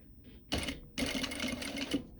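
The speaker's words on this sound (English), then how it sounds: "this is obviously an industrial sewing machine" An industrial sewing machine stitches in two short, rapid bursts, a close mechanical whirring rattle with a brief pause between runs.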